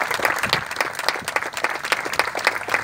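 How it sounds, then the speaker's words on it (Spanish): A crowd applauding workers at a bike path inauguration: dense, continuous clapping from many hands at moderate distance, steady throughout with no voices standing out. "quiero reconocer y que aplaudamos a todos los que trabajaron en esta obra"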